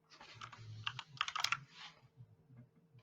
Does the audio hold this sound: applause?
no